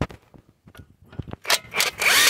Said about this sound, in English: now we're going to remove the ABS sensor from the hub